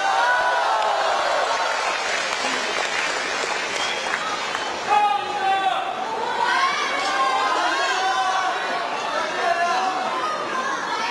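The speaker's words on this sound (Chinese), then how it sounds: "谢谢各位的热情掌声" Live audience applause and crowd chatter for a crosstalk comedy duo on stage, a dense steady roar of clapping and murmuring voices throughout with a few louder bursts.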